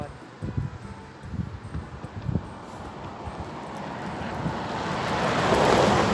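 Water flowing outdoors along a village road in Ban Dong Hen, Laos, a continuous rushing wash that grows louder and fuller toward the end, with wind buffeting the microphone and a few low thumps early on.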